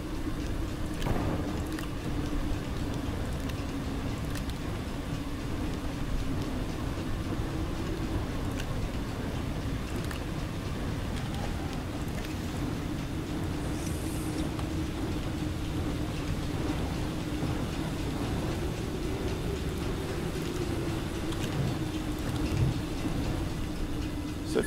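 A storm in the video game Astroneer roars as a steady, dense rumble with a constant low drone, like wind and rain lashing the surface, holding level for the whole stretch with no voices.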